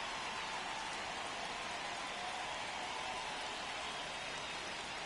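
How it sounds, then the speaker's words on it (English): Steady rain pours over an MLB The Show 25 baseball field, a dense, even hiss that never lets up and drowns everything else, with no voices or other sounds breaking through. "the field's not going to be able to hold up if the rain gets any worse than this"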